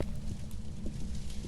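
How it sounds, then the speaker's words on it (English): Ghost footsteps in the horror game Phasmophobia sound as a quick series of low, heavy thumping steps, an even clip-clop rhythm over a muffled rumble, with nobody talking. "you hear the footstep?"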